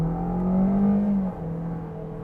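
A 2019 Toyota Corolla Hatchback engine with a CVT transmission pulls under acceleration, its steady hum rising smoothly and then dropping in pitch as a simulated gear shifts, close and clear with no talk.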